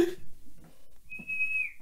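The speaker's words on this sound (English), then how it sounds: "Yep, he's whistling for you." A single short, high whistle rises clearly near the end, after a brief quiet stretch with faint sounds.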